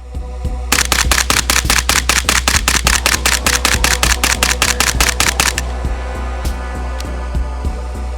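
A PSA 300 Blackout Krink rifle fires a rapid string of about two dozen close, loud shots in steady succession, then falls quiet with a faint lingering hum.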